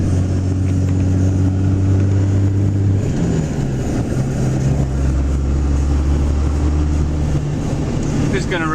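A Dodge Cummins truck drives along with a steady engine drone that drops in pitch as a gear shift comes at about three seconds, then holds a lower hum, loud and close from inside the cab.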